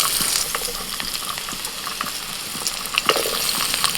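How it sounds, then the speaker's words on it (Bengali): Potatoes hiss and sizzle steadily in hot oil for a home-style Bengali village dish, with a few sharp crackles and pops rising over the continuous frying. "ওই তেলের মধ্যে দিয়ে দিচ্ছি আলু।"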